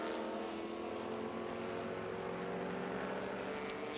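A historic racing car at the Estoril circuit drones steadily with a buzzing engine tone, fairly faint and distant, with no voices.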